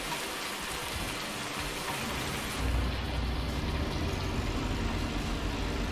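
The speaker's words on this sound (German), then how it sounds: "Der Regen ist so stark." Heavy rain pouring steadily during a sugar beet harvest in Thuringia, a dense loud hiss with a deeper rumble joining halfway through, no voices.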